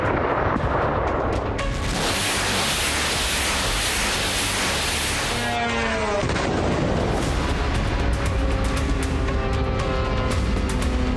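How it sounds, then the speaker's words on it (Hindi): Missile strikes on Kurdish positions in Iran's Kurdistan region produce loud, dense, roaring blasts and rumbling explosions that fill the whole stretch without pause. "ईरान के रेवोल्यूशनरी गार्ड्स यानी IRGC ने ईरान कुर्दिस्तान इलाके में मौजूद कुर्द ठिकानों पर 3 घातक मिसाइलें दागी हैं"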